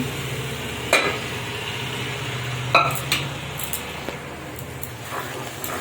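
Boiled chickpeas stirred into sizzling masala in a pan, with a steady, dense sizzle broken by a few distinct scrapes and clunks of a spoon.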